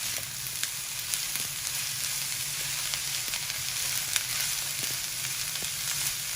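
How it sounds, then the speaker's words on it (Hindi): Shredded cabbage, chillies and mixed vegetables fry over high heat in a pan, giving a steady, close, crackling sizzle with small pops throughout and no talking. "अब इसको हम अच्छे से तेज आंच के ऊपर कुक करेंगे।"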